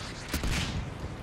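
Gunfire in Mass Effect 3 multiplayer: a quick burst of shots with a sharp crack partway through, over a steady layer of game noise at moderate loudness.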